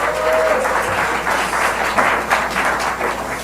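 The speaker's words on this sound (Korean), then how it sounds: "많은 박수 부탁드리겠습니다" Audience applause at an invited public debate forum, with steady dense clapping from a crowd of listeners that holds loud and even throughout.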